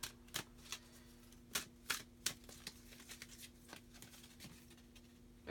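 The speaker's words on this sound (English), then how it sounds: "I'm going to pull another card too for the energies between the twins right now coming into this portal" Tarot cards are shuffled and pulled from a deck, giving a string of soft, crisp papery snaps and flicks at an irregular rhythm over a faint steady hum, close up and quiet.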